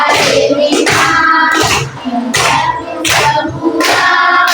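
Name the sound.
class finger clapping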